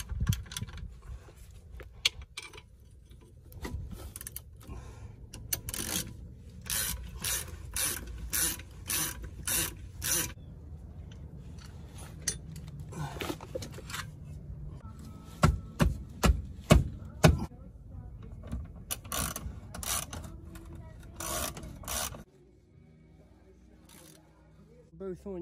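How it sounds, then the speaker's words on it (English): Ratchet clicks from tightening bolts on a Cherokee suspension in a home garage, coming in bursts of rapid near clatter between pauses, with a person talking at times and a quieter stretch at the end. "let's go ahead and get these bolts in there"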